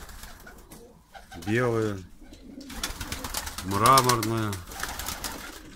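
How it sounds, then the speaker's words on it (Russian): Baku broad-tailed pigeons coo in two long, rolling bursts close by, while a person talks over the birds between and around the calls. "Голуби разных мастей."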